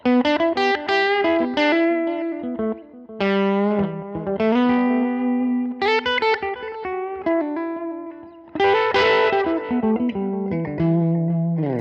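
An electric guitar plays a chordal riff through a Line 6 Helix Tweed P10R cabinet simulation with drive on, warm, slightly driven tone, phrases separated by brief gaps, clear and close.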